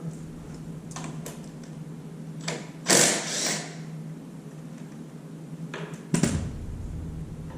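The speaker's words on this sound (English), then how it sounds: "An impact and a 21mm socket for." Impact wrench fitted with a 21mm socket removing a motorcycle clutch nut in a workshop: two short, loud rattling bursts, the first at about three seconds and the second near six seconds, separated by quiet room tone.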